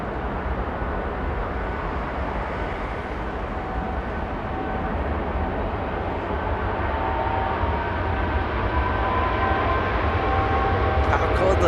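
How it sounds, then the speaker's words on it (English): An Air Tahiti Nui Boeing 787-9 departs Los Angeles International Airport, a broad jet roar building steadily in loudness at a distance, with talking heard over it. "Air Tahiti Nui's getting a move on."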